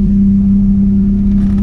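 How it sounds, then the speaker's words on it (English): A tuned car engine idles close by, steady low humming rumble, even and unbroken throughout. "Look, she idles correctly, no engine light, responds like she should, returns the idle like it should."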